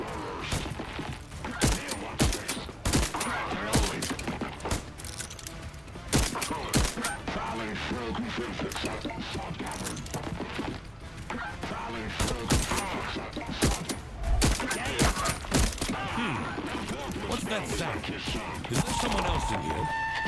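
Rapid gunfire in the video game Voidtrain, dense bursts of shots and impacts firing almost nonstop, loud and close with a busy rhythmic clatter throughout.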